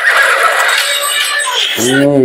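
A horse whinnies loudly near the end, preceded by a dense, bright rush of noise; the neigh rises in clear harmonic waves.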